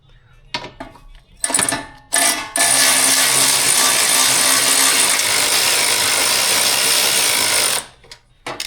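A power ratchet whirs loose a 10 mm bolt on a 2018 Subaru STI intake: a few short clicking bursts, then one long steady close-up buzzing run that stops abruptly.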